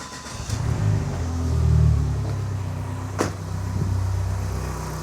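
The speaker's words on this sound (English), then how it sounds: "Let's start this vehicle." Car engine cranking and catching after a Gooloo GT3000 jump starter is connected, a close rumbling start that swells, then settles into a steady idle with a brief click midway.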